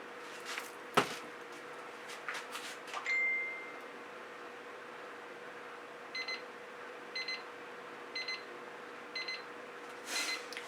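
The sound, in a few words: timer beeping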